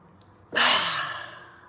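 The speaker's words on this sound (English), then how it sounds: "So we're gonna inhale." A single deep breath: a faint short intake, then a long audible exhale that starts strongly and fades away over about a second, close and quiet, with no words.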